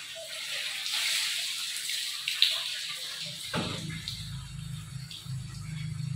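Water poured from a dipper during bathing splashes down in a steady gush that starts partway through, low and full, following a quieter stretch of faint running water.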